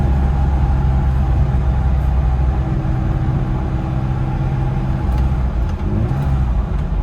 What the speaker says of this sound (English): Downshift to third.